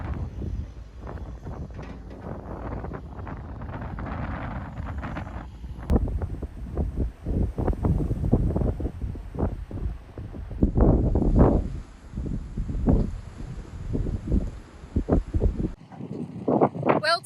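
Strong gusty wind blows across an outdoor garden site during earth-moving work, buffeting the microphone with loud, uneven low rumbles that swell and ease for the whole stretch.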